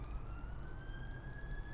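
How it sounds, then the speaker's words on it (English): A siren passing in the street, its wail held as a steady tone that slowly rises in pitch over a low rumble of traffic, faint and distant. "I don't know if you can hear that siren"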